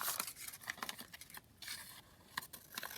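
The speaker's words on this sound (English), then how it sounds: "I can just cut it down here" Scissors snip through lined paper from a small flip pad for a junk journal, a quick series of soft, close crisp cuts with no voice.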